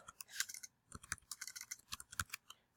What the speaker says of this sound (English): we're going to come up here and type letter